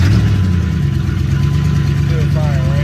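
A 2002 RAM pickup truck idling after sitting unused for a while, a steady, loud, low engine rumble throughout, with someone talking over it.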